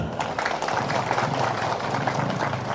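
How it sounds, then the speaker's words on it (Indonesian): An audience at a religious talk breaks into steady, dense applause that fills the space at moderate loudness without a pause. "Tepuk tangan dulu."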